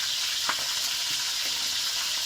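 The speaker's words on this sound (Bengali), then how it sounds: "আমি একটু তেল একটু হালকা করে ভাজবো" A steady, hissing sizzle of vegetables frying in oil, close and even, with a couple of light stirring clicks.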